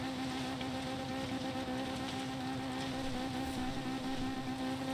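A Mazda Miata in Forza Horizon 3 heads down a grassy hill, its engine giving a steady, droning hum with a constant tone that runs loud and unbroken throughout, with no talking.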